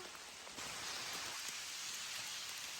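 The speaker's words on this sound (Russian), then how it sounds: "Дождь усиливается тем временем." Heavy rain falls steadily in a forest during a porcini mushroom hunt, a dense, even hiss of drops that swells slightly after the first half second and then stays constant.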